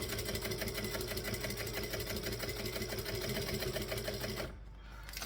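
A sewing machine top stitches vinyl slowly, its steady rapid mechanical chatter running close and continuous before stopping abruptly near the end, leaving a quiet tail.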